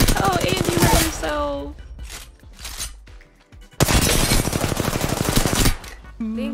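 Rapid automatic gunfire in a first-person shooter game crackles in long, loud bursts with brief pauses between them, while a player's voice is heard reacting over the shooting.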